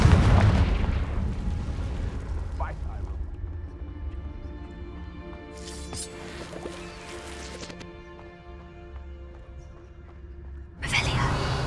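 A Confringo fire spell explodes in the video game Hogwarts Legacy, opening with a loud booming blast that fades into a lingering rumble, with another burst arriving near the end.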